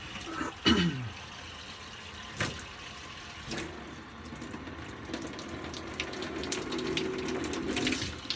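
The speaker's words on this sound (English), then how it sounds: "I'm going to run a little bit of hot water" Hot water runs from a tap into a sink with a soft, steady rush, growing fuller toward the end, with a few clunks and handling noises early on.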